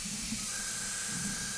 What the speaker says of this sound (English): I'm spraying it right now. Nothing's coming out. I'm running like 40 psi.